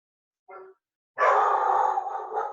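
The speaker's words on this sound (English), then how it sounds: "Oh, I'm sorry, that's my dog." A pet dog barks indoors with one short yelp, then a loud sustained bark or howl running for over a second, close to the listener with no talk over it.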